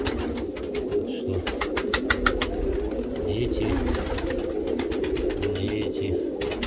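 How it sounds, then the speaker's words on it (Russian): Pigeons coo repeatedly in low, rolling calls on a warm spring day, close and steady, with a voice talking over them and sharp clicking noises in places. "голуби занимаются своими делами"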